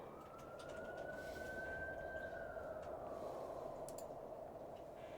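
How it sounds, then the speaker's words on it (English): A siren wailing outdoors, heard through an open window, with a single rising-then-falling tone sweeping slowly over steady background noise, moderately distant and continuous with no talk. "I'm sorry if you hear sirens outside."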